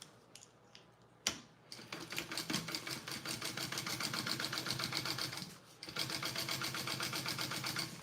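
A sewing machine top stitches a bag panel, starting with a brief clunk, then running in a close, steady, rapid run of stitches, pausing shortly before resuming.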